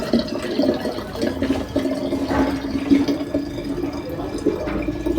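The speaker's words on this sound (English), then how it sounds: "So I'm going to mix it with the cold water." Hot water pouring steadily into a spray bottle of cold water for carpet cleaning: a continuous close filling sound that runs throughout, with no speech.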